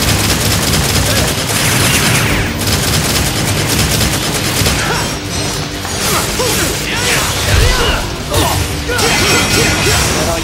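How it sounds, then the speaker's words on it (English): Gunfire from shooting at Dante in the game Devil May Cry 4: dense, continuous bursts of rapid shots mixed with mechanical clatter and whooshes, loud and unbroken for about ten seconds, with game voices mixed in. "Let's just shoot up Dante."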